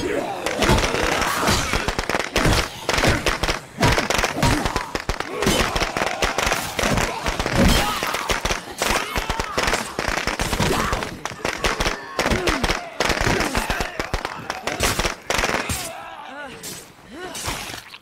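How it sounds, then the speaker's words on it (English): Firecrackers going off in the zombie survival game State of Decay 2, a long dense barrage of rapid cracks and pops with chaotic gunfire-like bursts that eases near the end, while a player talks over it. "firecrackers."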